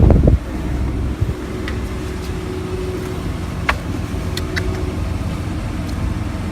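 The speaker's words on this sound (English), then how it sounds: "pop the hood and let you listen to the engine" A 2012 Jeep Liberty engine idles under an open hood, humming low and constant, with a faint mechanical whir and a few light clicks, close and alone without voices.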